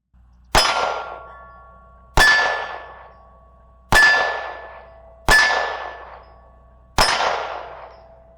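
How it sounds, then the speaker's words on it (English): Five pistol shots fired left-handed from 20 yards, each ending in a bright ringing clang off a steel target, evenly spaced about a second and a half apart, loud and close with long decays. "I'm gonna start at 20 yards and just not moving, just practicing left-handed shooting"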